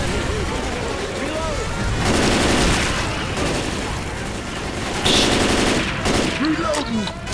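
Rapid automatic gunfire from laser-sighted guns in the zombie shooter Left 4 Dead 2, loud bursts coming in sustained volleys with short pauses between, mixed with game noise and players talking.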